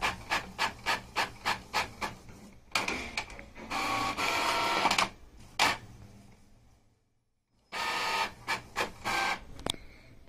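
An Epson printer runs a double-sided print job: a series of rapid, regular mechanical clicks, then longer whirring feed and rub passes, a brief pause, and the rhythmic clicking again. The sound is close and clear, with no talk.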